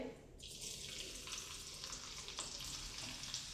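Garlic sizzles hard in hot oil with cumin seeds, cooked for a fenugreek and dried shrimp vegetable dish. The frying hiss is loud, steady and close, with a slight surge as the garlic goes in.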